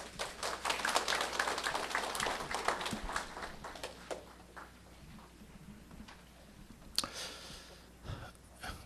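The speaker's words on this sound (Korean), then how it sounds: "박수로 맞아 주십시오." Audience applause welcoming a lecturer at a Catholic national pro-life conference, a dense burst of clapping for about three seconds that thins out and fades, with a few scattered claps afterward.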